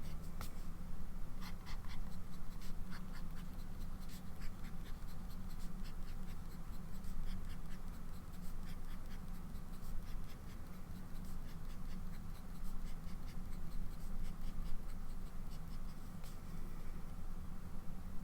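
A fountain pen with a medium nib, a Pearl Glam, writes on paper, giving a continuous soft scratching with rhythmic strokes, close and quiet over a low background hum.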